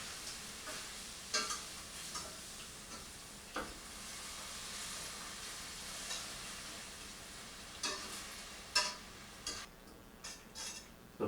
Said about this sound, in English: You want to add that in slowly while you're stirring with the whisk.